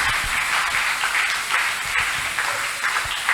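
A church congregation applauds together, a dense, steady wash of clapping that stays loud and even from start to finish.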